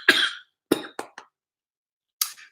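A person coughs several times, a long harsh first cough then three short sharp ones, followed by a final brief cough after a pause, close and fairly loud with no talk.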